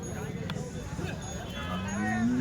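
Cattle at the Chalisgaon cow market in July 2024 give a low, drawn-out moo that rises near the end, over a murmur of market voices and background bustle.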